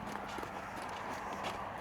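Horse hooves thud and clop steadily on the ground while the horse is lunged in a circle, a continuous moderate patter of footfalls with faint background noise.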